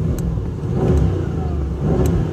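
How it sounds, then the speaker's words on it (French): V8 car engine idling at a standstill, heard through a partly opened window of the car from the film Le Transporteur Héritage; a low, muffled, steady rumble with no voices. "Et elle tourne vraiment bien en ralenti."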